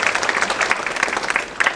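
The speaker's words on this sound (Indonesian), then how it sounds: "tepuk tangan dulu jawaban dari yang lain" An audience at a year-end Buddhist talk claps in a steady burst of applause, dense and even throughout, with no speech over it.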